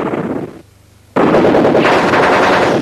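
Machine gun fire from General Chaos, a Mega Drive video game of squad combat, heard as loud sustained bursts of rapid shots that stop briefly, then return in a dense continuous rattle.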